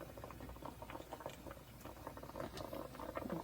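A pot of braised cutlassfish stew coming to a boil, a soft, steady bubbling and popping patter heard close and alone.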